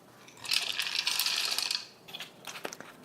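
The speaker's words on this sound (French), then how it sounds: "On va rajouter les pignons de pain." Pine nuts poured into a food processor bowl, a bright rattling patter of small hard nuts hitting the bowl for over a second, then a few scattered clicks as the last ones drop, close and alone.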